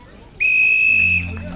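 A single sharp, shrill whistle blast at a bicycle criterium race lasts under a second, loud and close, followed by a faint voice beginning underneath.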